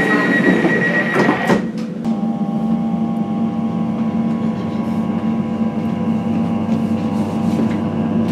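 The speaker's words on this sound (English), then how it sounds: "The 802 is the first train off this low level at Paddington to head to the West End. So it should be arriving now" An Elizabeth line train pulls into the low-level platform at Paddington station with a steady electric hum and a high whine, after a brief clatter at the start, loud and close in an enclosed station setting.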